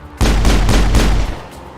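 Rapid bursts from a machine pistol in the Mass Effect video game, a loud, close string of shots lasting about a second, then a short decaying tail.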